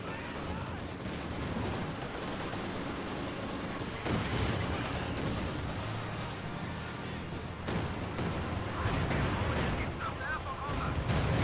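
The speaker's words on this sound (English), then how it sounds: "So here comes the first Stuka barrage." Stuka dive-bomber barrage in Company of Heroes 2, a dense, sustained wash of rumbling explosions and gunfire-like crackle with a few sharper hits, fairly quiet and steady, with speech mixed in.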